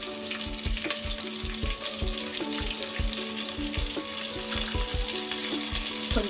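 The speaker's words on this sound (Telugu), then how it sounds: "ఉల్లిపాయ, బంగాళదుంపలు వేసుకొని బాగా ఫ్రై చేసుకోవాలి" Onions and potatoes fry in a pan with a constant sizzle, broken by a quick, regular rhythm of utensil scrapes and taps from close by.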